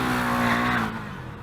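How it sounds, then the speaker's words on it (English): The rear wheel of a 2017 KTM Duke 390 motorcycle spins, with a loud, close high-revving engine whine and squealing rubber that drops away after about a second. "Wheel spin."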